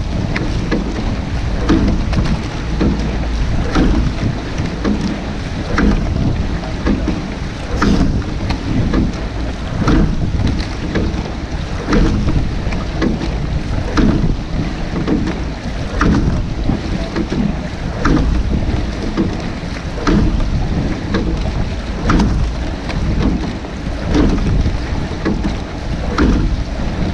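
Oars work a rowing boat outdoors, with regular rhythmic strokes and splashes repeating every second or so under steady wind buffeting the microphone.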